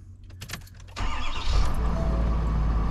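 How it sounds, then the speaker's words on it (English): Starter of a 2022 Ford F350 Super Duty truck cranking, then the engine catches and roars up loudly to a steady close run after a second of churning. "the truck still cranks"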